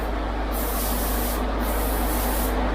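Plastic primer sprays from an aerosol can onto e-bike light parts in a steady loud hiss, broken into short bursts with brief pauses between passes, with a low hum underneath and no speech.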